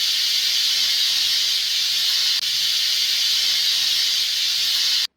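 A pressure cooker whistle blows while cooking vegetable pulao, giving a loud, steady, high steam hiss that runs unbroken for about five seconds and then stops abruptly.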